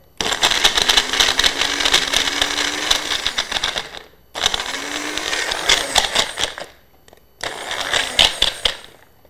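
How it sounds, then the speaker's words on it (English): A kitchen blender whirs loudly as it purees sweet dates, running in three bursts with a strained, grinding motor whine and short pauses between them. "So I'm just gonna turn on my blender, so bear with me for a minute."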